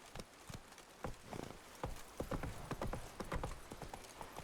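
Horse hooves in The Witcher 3 clatter across a small bridge in a rapid, uneven clip-clop, close and fairly loud over a soft background hiss.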